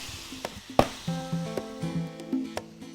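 Vegetables sautéing in a pan for a Chettinad vegetable curry, with a close, steady sizzle broken by light clinks and tonal scrapes of stirring utensils, plus one sharp knock near the start.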